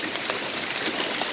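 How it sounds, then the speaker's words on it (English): Large quarter-sized hailstones falling at night, a dense steady patter of many impacts with no talk. "Biggest hail I've ever seen in my entire life."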